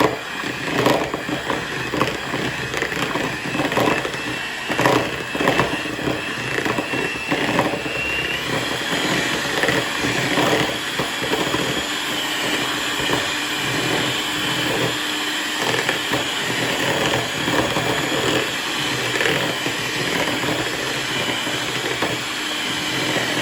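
An electric mixer creaming butter runs as a continuous loud whirring motor drone with a fluctuating pitch and rhythmic beater churn throughout, steady and close.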